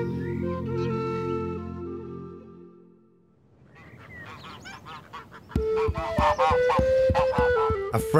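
Geese on a Victorian-era farm honk on an August morning. After a sustained tonal passage and a brief lull, a loud burst of harsh, rapid, overlapping honks follows close by.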